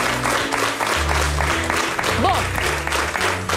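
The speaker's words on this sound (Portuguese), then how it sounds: "Um aplauso para os dois." A studio audience on a Portuguese TV talk show applauds two guests, a busy wash of clapping heard under a presenter's voice.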